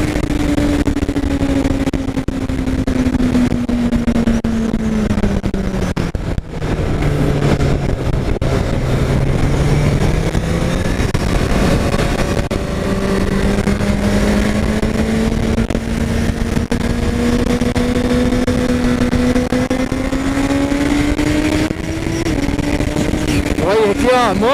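Honda CBR 1000 RR Fireblade sportbike ridden on the Interlagos circuit, its engine droning steadily with the pitch dipping and climbing through gear changes, loud and close under wind rush, with a rider talking over it.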